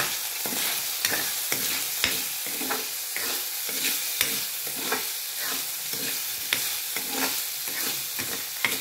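Pork belly frying in a pan, with a bright, continuous sizzle and repeated scraping stirs of a spatula at a steady pace, close up and fairly loud.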